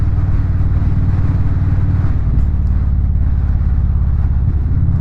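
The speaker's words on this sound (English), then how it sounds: "I'm still liking the sound of this exhaust." Low, steady exhaust drone from an Indian Super Chief Limited motorcycle on a ride, a loud, even engine thrum with slight shifts in pitch and no break throughout.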